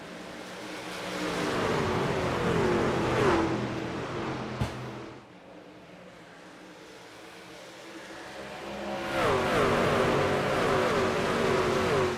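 Racing trucks roaring away at a restart in the iRacing video game at Homestead, a loud sustained engine drone that swells, dips briefly after a sharp click, then surges back as the pack accelerates.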